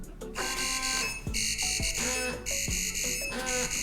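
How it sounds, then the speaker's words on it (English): A loud electronic bedwetting alarm, set off by a drop of water, sounds in repeating bursts of shrill, warbling tones, close by, with brief gaps between pulses. "set off the alarm with a drop of water so they understand what that sound is going to be like"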